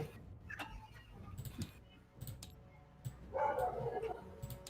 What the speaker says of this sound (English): Very, very loud dogs.